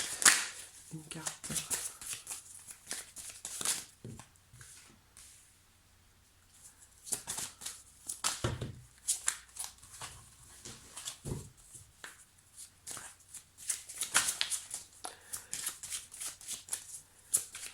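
Tarot cards being shuffled and drawn during a reading, giving repeated soft riffling and flicking bursts with quieter gaps between them, close by and moderately loud.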